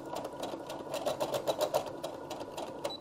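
A sewing machine stitching a pillowcase seam, a quick rhythmic run of needle clatter that rises in the middle and slows toward the end, close and clear with no speech.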